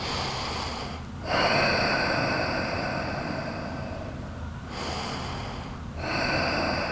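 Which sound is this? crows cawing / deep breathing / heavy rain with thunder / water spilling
deep breathing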